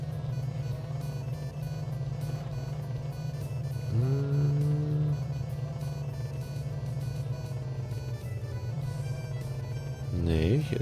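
A truck engine in Hard Truck: Apocalypse drones steadily as the vehicle drives, a constant low hum with a couple of rising revs, while a person talks faintly in German over it.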